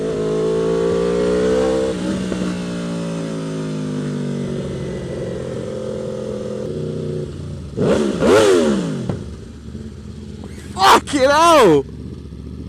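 An Aprilia RSV4 Factory superbike's engine drones steadily up close, then blips sharply in two loud rising-and-falling bursts; a man exclaims early on over the engine noise.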